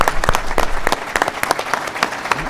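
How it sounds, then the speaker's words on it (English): A town hall meeting audience in Bay City gives a round of applause, dense, steady clapping that is loud and close, with little talk over it. "Mayor Mark Bricker and the City of Bay City a nice round of applause for providing this place for us to meet"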